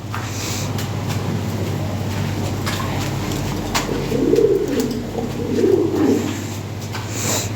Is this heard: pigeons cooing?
yes